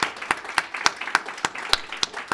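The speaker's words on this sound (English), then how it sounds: "give them a round of applause" A small audience claps in a sparse, uneven round to thank the workers who run the events, with a handful of distinct, fairly close hand claps spaced through the moment rather than a dense roar.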